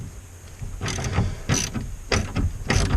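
A ratchet tightening bolts, heard as several close bursts of rapid metallic clicking, each a short run of ratcheting strokes separated by brief pauses, with no talk.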